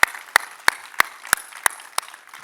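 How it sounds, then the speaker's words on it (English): Audience clapping for a speaker at a Solana-related talk event comes through as about seven sharp, evenly spaced claps in a slow, steady rhythm, fairly close and with nothing else in between. "Give her a big round of applause, Lily"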